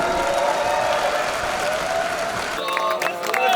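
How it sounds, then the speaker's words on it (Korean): Audience at a Black Combat fight event applauding a fighter, a dense sustained wash of clapping and crowd noise that thins near the end, with a host's voice over it. "홀리비스 선수께 큰 박수 부탁드리겠습니다."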